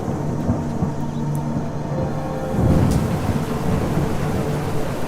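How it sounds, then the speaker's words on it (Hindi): A thunderstorm rolls on outside a roadside tea shop at night, steady heavy rain with a low rumble of thunder building and swelling midway through, continuous and enveloping with no voices. "बाहर अभी भी तूफान चल रहा है और बिजली कड़क रही है।"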